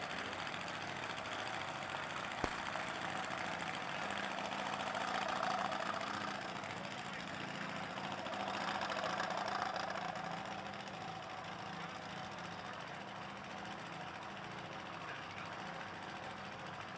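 Drag racing motorcycle idling at a night race meet, a low, steady rumbling engine note with a rough, knocking texture, swelling slightly twice before settling, heard at moderate distance amid open-air ambience.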